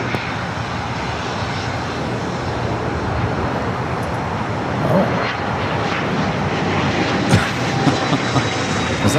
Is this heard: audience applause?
no